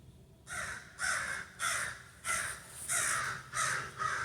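A crow caws six times outdoors, a few meters away on the ground, with harsh, loud calls in a steady rhythm about half a second apart over faint background hiss.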